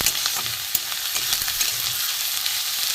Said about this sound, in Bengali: একসাথে আমি কষিয়ে নেবো একটু কষিয়ে নেবো সব একটু ভালো করে ভাজা হোক